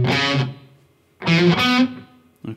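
Distorted electric guitar playing a riff, two short gritty chord bursts separated by a brief gap, with a clipped hit at the end, loud and close with no talking.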